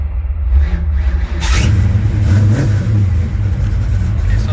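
A 351 Windsor-based V8 in a Notchback, strapped to a dyno, revs up sharply and holds a loud, rough high-rpm roar, close and dominant, with no rev limiter cutting in.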